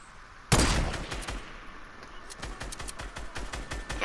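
Rapid gunfire in the Fortnite battle royale video game: a loud burst opens, then a fast run of repeated shots, near and steady, with no talk over it.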